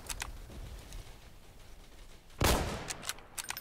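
Sniper rifle gunfire in the Roblox game Entrenched, fired at long range: one loud, sharp crack about two-thirds through, with fainter scattered shots and clicks before and after over low background rumble.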